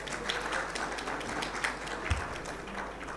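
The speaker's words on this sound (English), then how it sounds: "Please, a round of applause here." An audience applauds at an award ceremony during an annual technical conference and oil show, with moderately loud, steady clapping spread through a hall for a few seconds.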